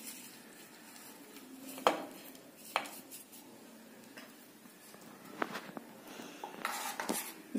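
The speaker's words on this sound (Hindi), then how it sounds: "इसे हम अच्छी तरह से तोड़ देते हैं। देखिए बहुत ही खस्ता कचौरी है।" Crisp aloo kachori is broken apart by hand for serving, with a few sharp cracks and crumbly snaps scattered over quiet kitchen background, fairly close.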